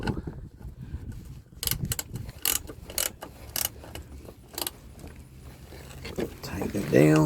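A socket wrench tightens a bolt on a Cummins Onan 7.5 kW Quiet Diesel generator under repair, with a series of short, close ratcheting strokes spaced unevenly between pauses and someone speaking nearby.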